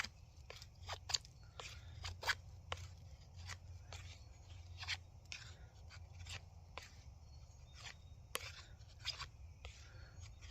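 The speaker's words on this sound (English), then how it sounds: "just want to use your knife to peel some wood off" A survival knife shaves strips of cedar bark from wood in a run of short, dry, crackling scrapes, close and quiet, coming in an uneven rhythm with no voices.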